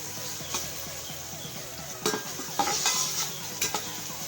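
Sliced onions frying and browning in about two cups of oil for matar pulao, a steady close sizzle with a spoon stirring and scraping the pan, sharper clinks of metal around the middle and end.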